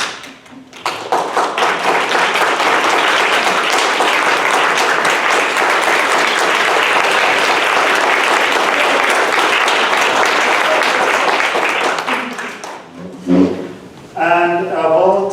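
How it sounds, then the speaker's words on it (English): Loud, sustained crowd applause for volunteer tutors at a literacy council appreciation assembly, dense clapping lasting about twelve seconds before fading, followed by a voice speaking. "please stand so we can give you a round of applause as well."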